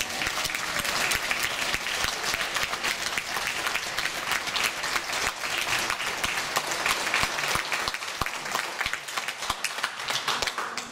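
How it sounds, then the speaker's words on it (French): An audience at a Téléthon 2021 charity event applauds a vocal group, dense and continuous clapping from many hands that fills the whole stretch at a steady level. "je pense qu'on peut les applaudir bien fort"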